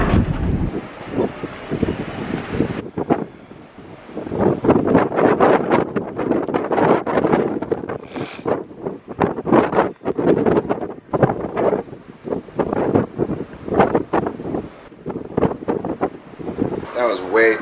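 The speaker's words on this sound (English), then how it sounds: "That was way too windy" Strong wind buffets the microphone on the open top deck of the cruise ship Carnival Miracle at sea, a loud, gusting roar that rises and falls throughout while someone talks.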